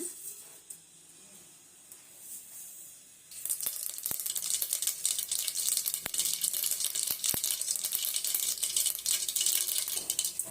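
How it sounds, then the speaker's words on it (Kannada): Oil crackles and sizzles steadily after a quieter start, with sharp pops scattered through the sound as mustard seeds fry in a hot pan for tempering. "ಈಗ ಒಗ್ಗರಣೆ ಮಾಡ್ಕೊಳ್ಳೋಣ"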